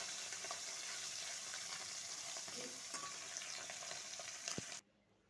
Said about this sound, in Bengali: একটু ভাজা এভাবে সব মাছগুলোই এভাবে ভেজে নেব।